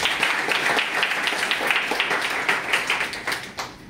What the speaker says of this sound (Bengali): আমার জন্য একবার জোরে হাততালি